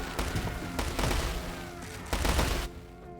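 Bursts of rapid hand cannon gunfire from a strategy game battle, several volleys of overlapping shots at moderate distance.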